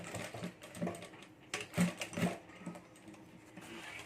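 A sewing machine stitches a handbag in short, soft bursts of rapid mechanical clatter with pauses between them, quiet and close, no speech.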